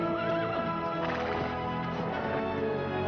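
A horse whinnies loudly over a steady clatter of hooves in an outdoor rural setting, with the neigh swelling and fading across a few seconds amid a dense, continuous layer of other sound.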